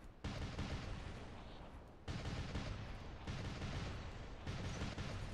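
Redeemer weapons in the video game War Robots fire rapidly in dense, roaring bursts of gunfire. The loud barrages come in several sustained waves separated by brief breaks, with no talking.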